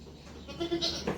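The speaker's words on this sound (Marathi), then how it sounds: "आणि ही शेळी आहे आमची" A short, faint goat bleat, a single nasal call rising over quiet background noise.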